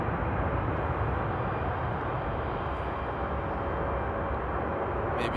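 A Boeing 787 Dreamliner jet at Frankfurt Airport in frosty de-icing weather makes a continuous loud engine roar, a dense, even rush that never lets up, heard alone.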